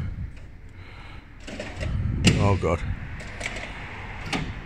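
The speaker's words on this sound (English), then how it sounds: "2 pushes to unlock the sliding door" Central locking releasing the sliding side door of a Ford Transit van, a brief mechanical clunk and whirr with a rattly buzzing actuator burst midway, heard close over background rumble and a short exclaimed voice.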